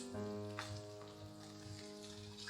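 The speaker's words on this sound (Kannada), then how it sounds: "ಇದನ್ನು 2-3 ನಿಮಿಷ ಮೀಡಿಯಂ ಫ್ಲೇಮಲ್ಲಿ ಫ್ರೈ ಮಾಡ್ಕೊಳ್ಳೋಣ." Cumin and sliced garlic frying in oil in a pan over a medium flame, a soft, steady sizzle with faint crackles and light stirring, heard alone and fairly quiet.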